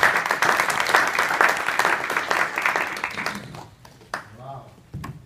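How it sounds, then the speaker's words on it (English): An audience applauds Congressman Kevin Cramer at a kidney-health event: steady clapping fills the first few seconds, then thins and fades, leaving a few scattered claps and a brief voice near the end. "So let's give him a round of applause."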